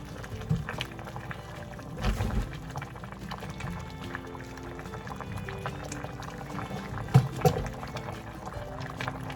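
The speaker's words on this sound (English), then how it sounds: "Let's just give that a nice little stir." Cabbage soup bubbles in a cooking pot as it gets stirred, a steady simmering wash with a few louder spoon knocks and sloshes rising near the middle and toward the end.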